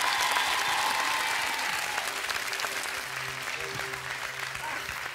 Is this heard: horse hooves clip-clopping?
no